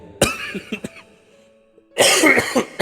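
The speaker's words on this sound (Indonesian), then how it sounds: "Mohon maaf ya, saya lagi rada batuk ini." A person coughs a few times, a short burst then a couple of smaller hacks, followed after a pause by a louder, harsher fit of coughing up close.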